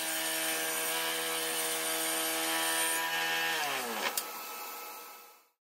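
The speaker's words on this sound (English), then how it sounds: "At the table saw, I'm cutting two sectionals" A table saw runs at full speed cutting wood sections for a barn door cabinet, a loud steady whine whose pitch drops as the blade spins down. A short knock sounds near the end before it fades to silence.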